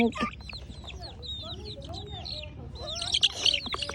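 Baby chickens cluck and peep close by, a busy overlapping chorus of small calls that grows livelier toward the end, with a low rumbling background underneath.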